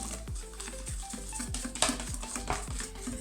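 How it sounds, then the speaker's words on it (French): A utensil stirs eggs into warm milk in a pot for a chocolate flan, steady close scraping strokes repeating in a quick, regular rhythm. "Et je remue."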